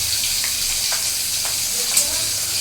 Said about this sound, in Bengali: আর এখানে বেগুন ভাজা হচ্ছে, আর এটাতে মাছ ভাজছি।